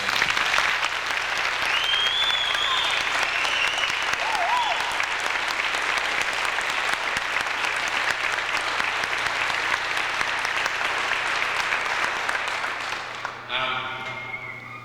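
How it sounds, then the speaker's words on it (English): Big round of applause for singers at a high school boys' basketball event, a crowd clapping loudly and continuously before fading near the end, with a few cheers mixed in. "I'd like to give them the biggest round of applause right now"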